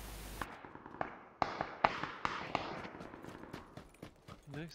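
Distant gunfire in the video game PUBG: a string of irregular sharp cracks, faint and far off against a quiet background.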